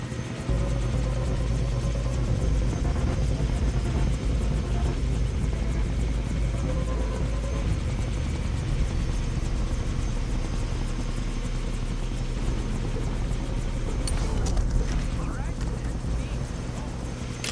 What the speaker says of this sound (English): Can't let them put Ollie in the chopper